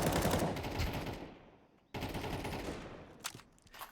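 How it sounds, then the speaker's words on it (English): Sustained automatic gunfire from Counter-Strike on the Ancient map, rapid loud bursts that fade out, then a second volley of fire with a few sharper single shots near the end. "Bullets being traded."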